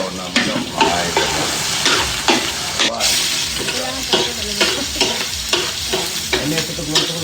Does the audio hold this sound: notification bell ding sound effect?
no